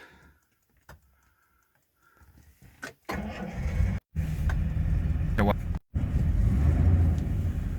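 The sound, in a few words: Jaguar XJ Series 1 car engine starting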